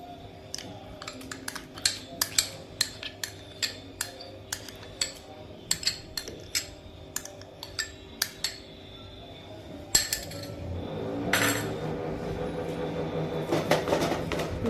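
A metal spoon scrapes and clinks against a bowl while yogurt is stirred into a tandoori chicken marinade. The sharp taps come in an irregular rhythm and close up, followed by softer, wetter mixing and scraping.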